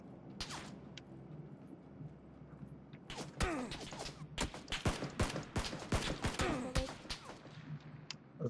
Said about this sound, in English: Yeah, they're shooting at us.